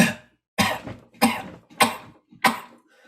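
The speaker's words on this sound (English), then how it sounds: "The thing that makes a cough special is the speed that it's coming out." Five sharp coughs in a row, close and loud, each a short explosive burst with brief pauses between them.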